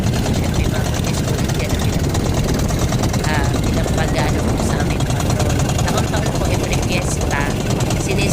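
Boat motors drone and rumble continuously during a fiesta boat parade at sea while people talk and shout over them, a busy, loud outdoor mix with engines close by.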